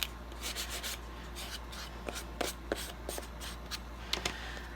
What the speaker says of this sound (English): I'm going to go ahead and just sand it lightly to kind of blend all these different colors and